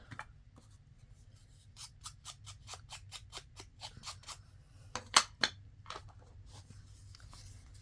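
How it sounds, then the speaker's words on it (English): Quiet, close snipping of scissors rounding off the corner of a paper journal card, a steady run of crisp cuts with a couple of louder snips near the end. "So I just do it with my scissors."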